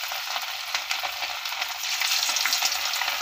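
Marinated chicken 65 pieces fry in hot oil with a loud, dense, continuous sizzle and crackle close by, briefly stirred and swelling slightly toward the end, with no talking.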